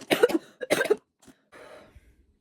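A person coughs several times up close, with harsh bursts and a short throat-clearing, then a quieter rasp trailing off.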